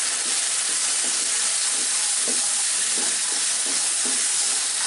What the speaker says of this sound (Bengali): দিয়ে এটাকে একটু হালকা করে ভেজে নেব।